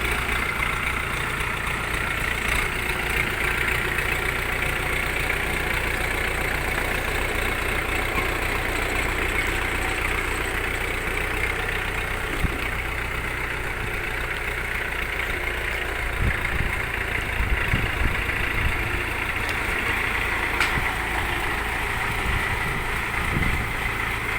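A 2023 Jinma 404 mini tractor engine in low gear with creeper chugs steadily and low throughout, a continuous idling-like rumble with faint knocks, close by and without any voices.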